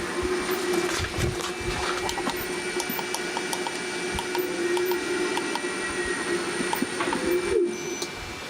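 A late 1940s Crompton Parkinson 2 HP three-phase electric motor runs with a steady drone and faint ticking, with a pigeon-like cooing mixed in at moderate level.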